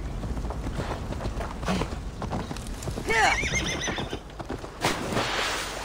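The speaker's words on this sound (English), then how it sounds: "we can just take a horse." In Assassin's Creed Valhalla, a horse whinnies loudly with a rising, wavering neigh midway, surrounded by steady clip-clopping hooves and ambient game noise.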